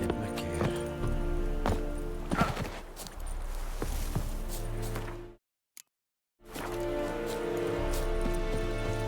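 Geralt's horse Roach trotting in The Witcher 3, a steady clip-clop of hooves under low game music, broken by a second of silence before the hoofbeats resume.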